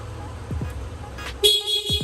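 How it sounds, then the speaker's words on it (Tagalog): Stock horn of a Yamaha Aerox 155 scooter gives one short, loud, close toot above a low idling rumble, with brief faint sounds just before it. "Okay, stock horn."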